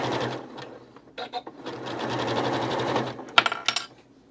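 A Janome S7 sewing machine stitches a knit neckband with a fast, steady mechanical whir, close by. It runs in bursts with brief pauses and a few sharp clicks near the end.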